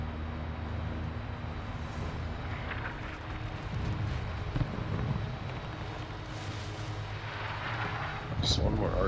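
Artillery fire in a tank video game booms as low, distant rumbling blasts over a constant engine-like drone, with a sharper crack near the end.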